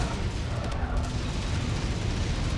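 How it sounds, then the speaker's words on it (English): Constant AC-2 autocannon explosions in MechWarrior 5, a dense unbroken rumble of booms and blasts, loud and close with no clear gaps between impacts. "AC-2s! It's like literally just constant explosions."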